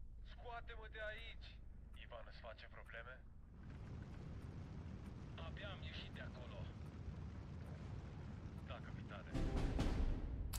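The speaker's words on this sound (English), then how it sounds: "That's a lot of artillery." Artillery fire in the Steel Division 2 wartime strategy game rumbles as continuous low booming and rolling blasts, swelling into a louder, heavier barrage near the end, while someone talks over parts of it.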